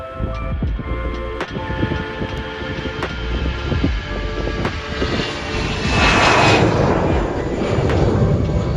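Jet airliner engines in the Infinite Flight simulator at Zürich, a loud steady roar that swells toward the end with a high whine on top, continuous throughout.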